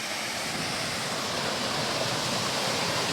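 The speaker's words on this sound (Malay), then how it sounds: "anak sungai yang mengalir" A clear-water stream in the forest of Kinabalu Park flows on continuously, an even, steady rush of water with no voices or other sounds.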